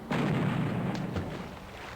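Enemy ship cannon fire in the naval video game Battle Navigation booms once, a deep heavy blast that rolls out and fades over a couple of seconds, with no talk over it.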